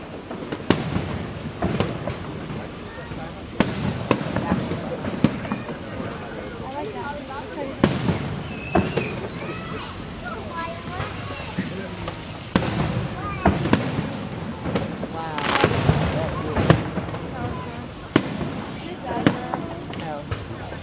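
Fireworks go off outdoors in a long series of sharp bangs and crackles, some near and loud, others farther off, with people talking intermittently underneath.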